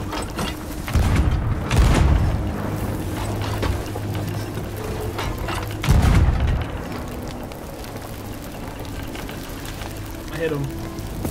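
Heavy booming impacts and rumbling chaos as cannon fire strikes a ship in the pirate game Sea of Thieves, two loud hits a few seconds apart amid constant ship noise and game sounds.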